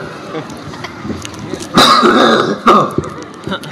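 Coughing and throat clearing at a religious sermon in Banda Aceh, two loud harsh bursts standing out over a murmur of background voices and room noise.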